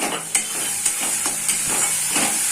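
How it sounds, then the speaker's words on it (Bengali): Flat beans (shim) fry in a pan with a steady, close sizzle and a few soft stirring taps, and no one speaks. "এবার এটাকে আমি ভালো করে ভেজে নেব।"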